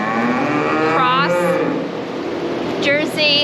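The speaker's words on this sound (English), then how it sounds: "So we're gonna bring in the first group of cows for milking." Jersey Holstein cross dairy cows low loudly inside a barn as they are brought in for milking, with two long, close moos, one early and one near the end.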